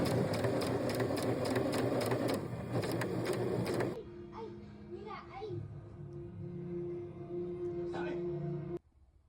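A sewing machine hems the outline and bottom edge of a cape for a child's costume, running steadily and fairly loud for about four seconds before stopping, followed by quieter sounds and a faint sustained hum.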